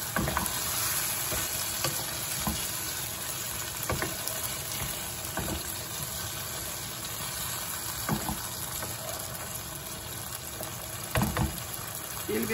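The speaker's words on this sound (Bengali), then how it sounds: "এবার একটু ফ্রাই করে দিই" Oil and spices fry in a pan for a radish curry, a constant close sizzle with occasional stirring scrapes and clicks.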